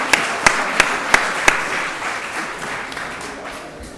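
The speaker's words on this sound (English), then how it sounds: "Give yourself a round of applause." At a Lowell School Committee meeting, five distinct close claps open a short round of applause that fades into a softer patter of the gathered room.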